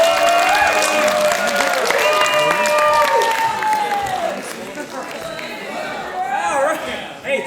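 A comedy club audience claps and cheers to welcome a stand-up comedian to the stage, with the loud, steady applause and crowd noise slowly thinning toward the end.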